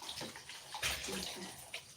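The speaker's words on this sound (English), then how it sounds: "the next thing you need to do is to add water." Water poured into a pot to cook zobo drink, a brief gushing splash that swells and fades, fairly quiet.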